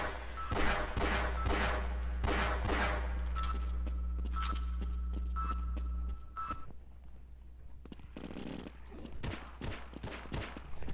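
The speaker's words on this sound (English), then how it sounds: "another security guard shooting the head crabs" A security guard in Half-Life fires a pistol at head crabs in a dense rapid volley of gunshots, followed by a quieter stretch of scattered shots and game noise, with no voices.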